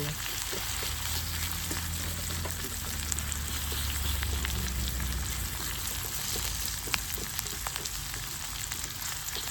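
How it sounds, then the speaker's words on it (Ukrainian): Onion frying in a pan while cooking outdoors in a yard, a steady soft sizzle and crackle with faint scattered pops throughout, no talking. "цибулька наша смажиться"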